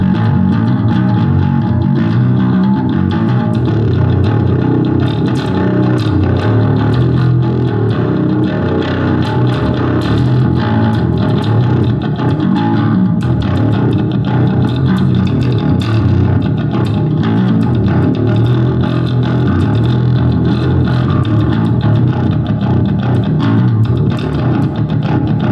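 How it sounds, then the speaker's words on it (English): A loud, continuous overdriven bass tone played through a Behringer DR600 digital reverb pedal, thick and distorted with a washed-out tail, no talking. "Let's throw some reverb on there. We're using the Behringer digital reverb."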